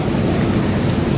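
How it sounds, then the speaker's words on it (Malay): Heavy rain pours steadily in the Cameron Highlands during a thunderstorm, a dense, close, unbroken roar with low rumbling underneath and no voices. "Macam aku cakap tadi, hujan."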